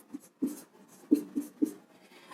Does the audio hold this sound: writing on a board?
yes